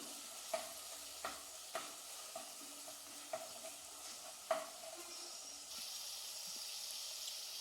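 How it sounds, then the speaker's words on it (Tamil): Onions and tomatoes sautéing in a pan for an egg kuzhambu gravy give off a soft, low sizzle, broken by a few sharp spatula taps and scrapes. The hiss swells a little louder toward the end. "வெங்காயமும் தக்காளியும் நல்லா வதங்கணும்"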